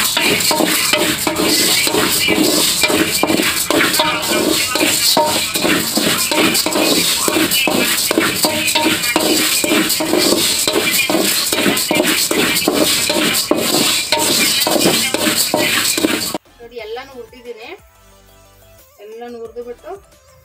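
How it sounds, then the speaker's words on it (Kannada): Finger millet (ragi) being dry-roasted and stirred in a pan, a steady dense scraping rustle of grains against metal that runs loud for most of the time, then stops as a voice speaks briefly near the end. "ಈಗ ರಾಗಿ ಹುರಿತಾ ಇದ್ದೀನಿ ನೋಡಿ"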